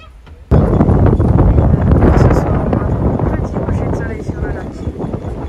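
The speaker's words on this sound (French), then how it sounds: "Alors je suis désolée, il y a le vent." Strong wind buffets a phone microphone outdoors beside a camper van, a sudden roaring rumble that starts after a brief quiet moment and stays loud and steady throughout.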